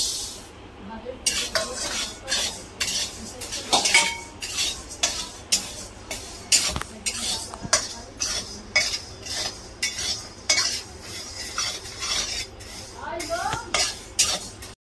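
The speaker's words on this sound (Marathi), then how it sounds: "आता आपण मुगाची डाळ भाजून घेऊ" Moong dal roasting slowly over low flame in a pan, stirred with a metal spatula: repeated scraping and clinking strokes in a steady rhythm over a faint dry sizzle, close and fairly loud.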